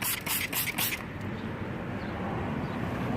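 Water sprayed onto a repaired tire after a nail is pulled out, heard as a few quick close hissing spritzes in the first second, followed by a low, steady rumbling background.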